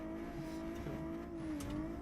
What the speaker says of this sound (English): now he's drifting with the F1 wheel